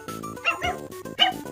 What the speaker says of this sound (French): J'ai eu ce petit Idéfix mécanique.